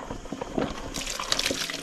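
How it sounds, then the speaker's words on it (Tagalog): Water pours and splashes into a container to soak a cooking ingredient, a close, bubbling stream that brightens and grows louder partway through. "Lagyan mo na ng tubig."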